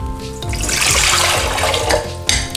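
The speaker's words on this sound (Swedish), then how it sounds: "Så tar vi vattnet och häller ner det i bunken." Water pours into a mixing bowl while bread dough is being prepared, a loud, continuous splashing stream lasting about two seconds before tapering off with a small clink.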